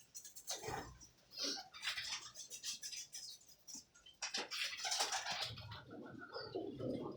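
Pigeons for sale give soft, faint coos and rustling calls amid a busy background of movement and scattered bird sounds.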